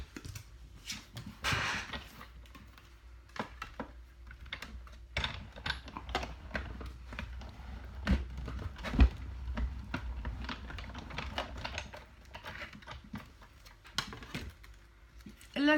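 A die-cutting machine crank-feeds paper and a metal die through its rollers for a rubber-stamp craft project, giving a steady run of soft clicks, taps and low rumbling thuds over about sixteen seconds, close up, with no talking.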